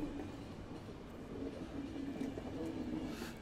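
Steady rumbling train running in The Final Station video game, a continuous low rolling drone with a faint hum, loud and unbroken throughout.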